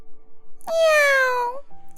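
A single drawn-out cat meow, used as a sound effect in a Korean folk tale, rises and then falls away. It is clear, close and alone.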